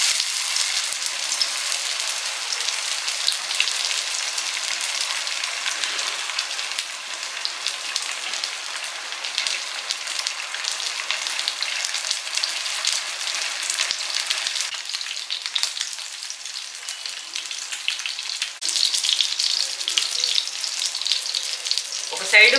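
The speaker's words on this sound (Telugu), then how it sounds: "ఇప్పుడు మనం ఒక్కొక్క చేప ఈ పెనం పైన వేసేసుకొని మంచిగా ఫ్రై" Whole fish frying in hot oil on a flat pan, a close, continuous crackling sizzle that stays steady throughout with faint kitchen handling near the end.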